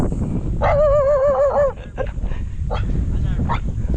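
A dog on a mountain trail in Montalban, Rizal gives a drawn-out whining yelp, then a few shorter whimpers, close by over outdoor background noise and people talking.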